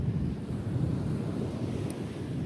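Ocean waves wash onto a beach on a windy day, forming a faint, steady rush of surf and wind buffeting the microphone, with no voices.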